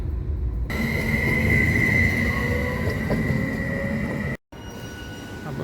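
A Hungarian passenger train rumbles loudly at close range between Miskolc and Füzesabony, with a steady high wheel squeal over heavy rolling noise and a brief cut near the end.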